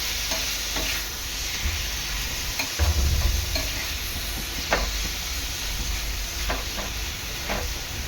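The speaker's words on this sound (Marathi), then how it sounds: "चांगलं एकत्र मिक्स करून घ्यायचं आहे" Tuna fish burji being mixed and fried in a pan, a continuous loud sizzle with repeated scraping and stirring strokes of a spoon against the metal, close up and without talk.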